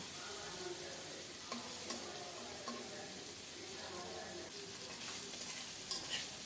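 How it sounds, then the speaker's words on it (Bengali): Small poa fish sizzle steadily in hot mustard oil, a continuous frying hiss with faint stirring clicks, close and quiet throughout. "মাছগুলো লাল লাল করে ভেজে নেব"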